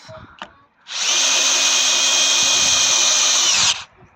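A power driver runs in one continuous high whine for about three seconds, close and loud, sinking a Torx screw into a predrilled hole in a wooden garden shelter post, with brief clatter before and after.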